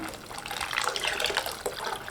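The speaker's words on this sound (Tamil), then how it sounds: "இது கூடவே கரைச்சி வச்ச புளி தண்ணியை சேர்த்துக்கலாம்" Tamarind water poured into a cooking pan for a Nethili dry fish kuzhambu, a steady close splashing pour running about two seconds with no talk over it.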